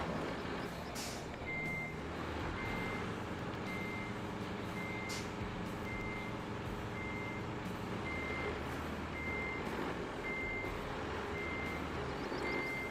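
A dump truck reversing in the video game RoadCraft, its backup alarm beeping in a steady, evenly spaced series over a constant low diesel engine rumble, with a couple of sharp air-brake hisses.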